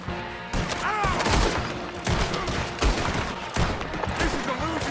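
Gunfire rattles through a shootout in Red Dead Redemption 2, with dense bursts of shots and rapid volleys repeating across the clip, close and loud, while voices shout over the fighting.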